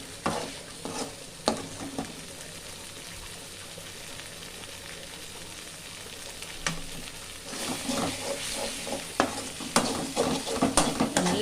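Crab gravy being stirred in a pan, a steady sizzle with scraping spoon strokes that grow busier and louder toward the end, with no voices.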